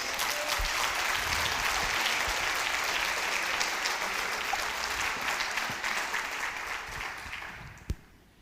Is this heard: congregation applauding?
yes